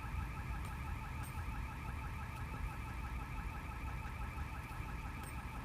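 A car alarm whoops and warbles on a steady repeating loop throughout, fairly distant and continuous, with low traffic rumble underneath.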